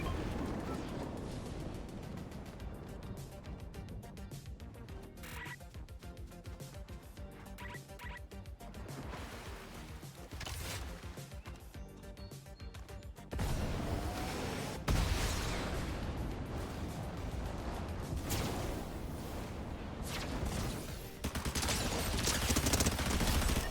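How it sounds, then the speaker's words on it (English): Megazord firing its chest lasers in Fortnite: a dense, continuous barrage of crackling energy blasts and impacts, loud and sustained throughout, growing heavier partway through, with no talking. "We can fire chest lasers."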